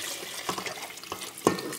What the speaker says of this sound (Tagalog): So, ilagay na natin yung tubig na mainit.